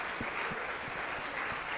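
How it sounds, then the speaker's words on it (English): A room of people clapping steadily, a dense patter of applause at moderate volume with a few distinct claps standing out. "Let's give them a round of applause."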